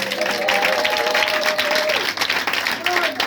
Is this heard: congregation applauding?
yes